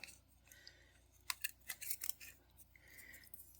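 Scissors snip through beading string in a few quick, close cuts, crisp and quiet against a faint room hum, with no talking.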